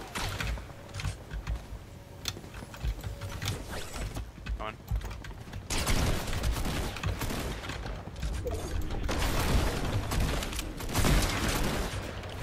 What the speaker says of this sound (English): I hit him out of the air with the hunting rifle